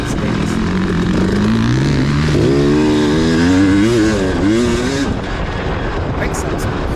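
Race motorcycle at a Muskegon race at wide open throttle, a loud rising engine howl climbing through the gears with clear pitch sweeps, and a voice talking over it.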